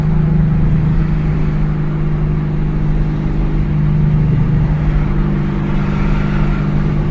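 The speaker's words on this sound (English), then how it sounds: "This car, even though it's not supercharged, it's still awful powerful." A Chevrolet Camaro Z28 engine, not supercharged, pulling along a road in heavy traffic: a loud continuous low drone heard from the cabin, with slight swells in pitch and level.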